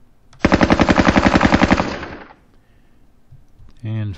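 An RPK machine gun fires a single rapid burst of about two dozen sharp, evenly spaced shots in the video game Squad Battles: Soviet-Afghan War, followed by a fading echo and a short voice at the end.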